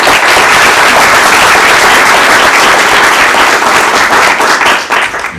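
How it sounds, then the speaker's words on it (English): A loud round of applause at a state public utilities board meeting: a roomful of people claps vigorously and continuously, close and dense, easing slightly at the end. "So let's give them a round of applause"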